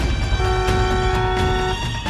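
A vehicle horn blares in one loud, continuous tone, held down the whole time, close by amid traffic noise.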